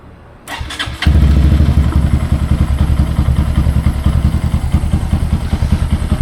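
A Honda Grom motorcycle engine cranks and catches, then settles into a loud, close, steady idle with an even pulsing thump, no voices over it.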